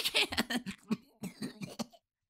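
A narrator's voice imitates a choking cough during an audiobook reading, giving a rapid run of harsh, strained coughs and gasps over about two seconds before falling silent.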